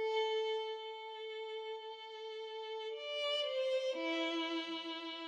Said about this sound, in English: The violin sounds like this.